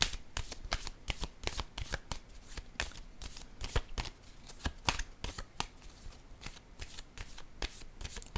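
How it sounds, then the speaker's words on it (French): Playing cards being shuffled and laid out, a rapid series of crisp riffling snaps and flicks, close and fairly quiet, with no talking. "Je vais déposer une autre carte ici."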